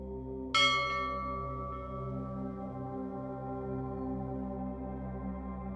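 A single bell strike in a sleep hypnosis recording rings out clearly, then a long, rich, slowly fading resonance with steady sustained tones hanging in otherwise quiet air.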